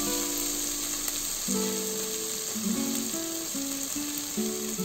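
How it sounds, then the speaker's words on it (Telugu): Spices fry in hot oil in a pan for spinach dal, a continuous close sizzle and crackle under steady tonal music throughout. "కొద్దిగా వేయించుకోవాలి ఈ విధంగా ఫ్రై చేసుకోవాలి"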